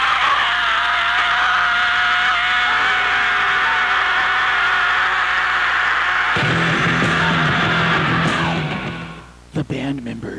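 Scream opening a thrash metal album: a loud sustained high-pitched shriek held for about eight seconds over distorted noise, then cutting off into abrupt hits.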